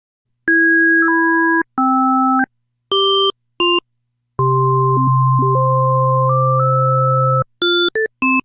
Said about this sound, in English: it sounds a bit like a Hammond organ without vibrato